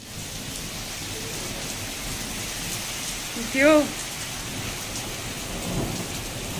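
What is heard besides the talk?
heavy rain with thunder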